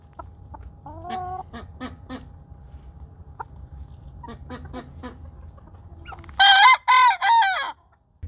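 Mottled Houdan hens cluck in scattered short calls, then a rooster crows loudly and close, its call broken into a few strained bursts.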